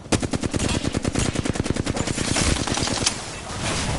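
Gunfire in the video game Apex Legends: a loud, rapid automatic burst of evenly spaced shots for about three seconds, then a brief sustained roar as it stops.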